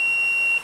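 A 555 timer buzzer circuit gives one steady, high-pitched electronic beep lasting just over half a second, loud and clean with no voices.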